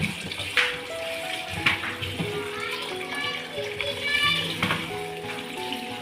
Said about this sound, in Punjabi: ਚੰਗੀ ਤਰ੍ਹਾਂ ਇਹਨਾਂ ਨੂੰ ਤੁਸੀਂ ਮਲ-ਮਲ ਕੇ ਧੋਣਾ